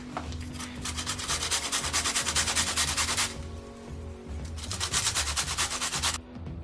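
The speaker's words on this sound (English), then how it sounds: "I'm just gonna grate the onion" A raw onion is grated by hand, giving fast, rhythmic rasping strokes in two long, close bursts separated by a short pause.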